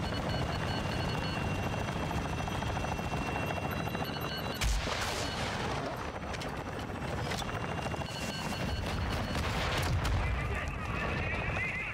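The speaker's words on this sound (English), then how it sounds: "There's an X-Fill over here with a Commander Helo on top of me." A Commander helicopter's rotors throb overhead in the Call of Duty DMZ video game, mixed with bursts of gunfire and heavy booms, while a voice talks over the din.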